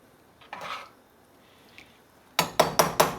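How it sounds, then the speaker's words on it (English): A utensil stirs birria meat with its drippings in a pan: soft scraping early on, then four sharp, evenly spaced metallic clinks against the pan near the end, close and fairly loud. "Just lightly stir this all up here."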